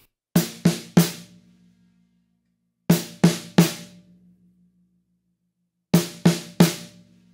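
Drum kit groove on kick, hi-hat and snare, heard as three short groups of three crisp, close hits each, separated by gaps of about two seconds, with no talking.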